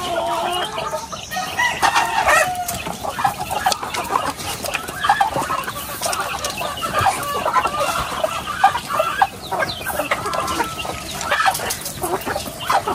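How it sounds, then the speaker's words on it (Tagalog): A flock of chickens being fed clucks and squawks continuously nearby, a busy overlapping chatter of many birds with occasional louder calls. "nagpapakain na ng manok dito po sa likod"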